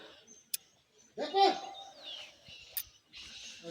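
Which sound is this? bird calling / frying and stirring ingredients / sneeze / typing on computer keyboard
bird calling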